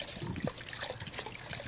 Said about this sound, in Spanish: El agua. ¿Se ha roto el grifo?